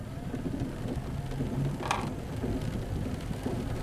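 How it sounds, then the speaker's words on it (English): Steady rain falls in Huber Heights on Halloween, making a continuous dense hiss with a low rumble underneath. A brief brighter splash stands out midway, and there is no talking. "and it is raining."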